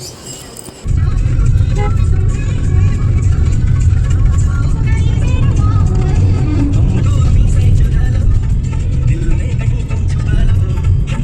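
Loud road traffic with a truck pushing its way in, a heavy, continuous low engine rumble close by that starts abruptly and persists, with a voice speaking over it.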